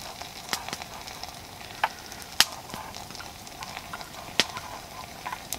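Maple steak and beans sizzle over an open bush campfire, a steady crackling hiss with occasional sharp pops and clicks, close and alone without talk.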